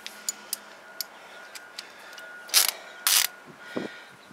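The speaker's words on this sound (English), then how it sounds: "Let me go ahead and tighten these bolts up really fast." A Craftsman ratchet tightens rear brake caliper bolts on a 2003 Honda Odyssey EX-L, with sparse, sharp ticks followed by a couple of louder, short metallic bursts close by in a quiet garage.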